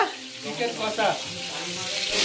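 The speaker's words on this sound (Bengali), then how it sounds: "এখন কিন্তু দেখতে পাচ্ছ আলু ভাজা হচ্ছে" Potato pieces sizzle in a hot pan, a close, steady frying hiss with brief swells as they are moved, and no clear voices.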